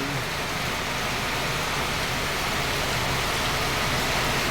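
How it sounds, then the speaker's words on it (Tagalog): Heavy rain from Typhoon Carina pours down in a dense, steady hiss, loud and close, unbroken for the whole stretch with no voices. "ngayon naman bumanat na naman ang ulan na malakas"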